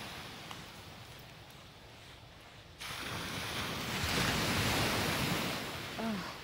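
Ocean surf on a sunny Destin, Florida beach, a steady wash of waves mixed with wind rumble on the microphone that grows louder partway through, with no speech.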